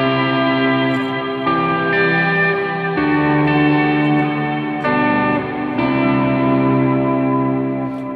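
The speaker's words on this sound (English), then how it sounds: "if you're looking for a worship-focused reverb pedal, I'll definitely recommend the Revelation Reverb from Jet Pedals" Electric guitar through a Jet Pedals Revelation Reverb pedal, sustained chords ringing out in lush layered reverb, each new chord blooming into a long shimmering wash, loud and alone.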